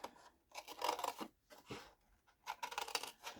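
Scissors cut a rounded shape out of a craft piece, several close, quiet bursts of crisp snipping and rasping separated by short pauses.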